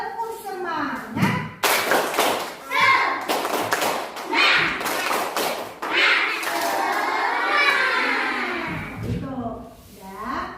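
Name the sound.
children doing rhythmic clapping cheer in class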